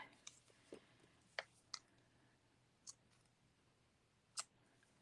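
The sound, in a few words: ribbon scissors snipping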